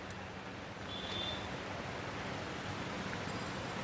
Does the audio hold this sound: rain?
yes